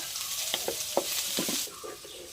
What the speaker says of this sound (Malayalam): നമുക്ക് സവാള ഇട്ട് കൊടുക്കാം അത് സവാള ഒന്ന് നന്നായിട്ടൊന്ന് വഴണ്ട് വരട്ടെ